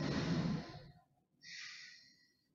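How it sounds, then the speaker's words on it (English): Yoga breathing through the nose only: a close, audible breath drawn in, a short pause, then a softer airy breath out, with no talk. "While I'm doing these exercises, I'm going to be breathing only through my nose"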